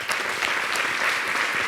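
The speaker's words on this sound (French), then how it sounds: "À Bulle, ça s'applaudit quand même." Studio audience on a French-language TV talk show applauds a Scrabble world champion, a short steady burst of dense, bright clapping, fairly close and loud throughout.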